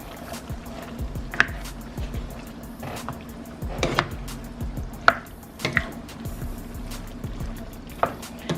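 Chicken stir fry being stirred in a pan, with soft intermittent scraping and clacking of a utensil against the pan over a low background sizzle, close and moderately quiet.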